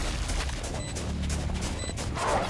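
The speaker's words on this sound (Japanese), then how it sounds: "そしてショーストッパー返し" Blasts and heavy gunfire fill a Valorant match, with Raze's Showstopper rocket launcher detonating amid a dense, continuous barrage of shots and booms at steady loudness.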